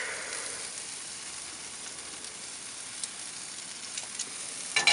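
Food sizzles on a preheated grill with a steady, even hiss that stays constant at moderate volume, broken only by a few faint ticks and crackles.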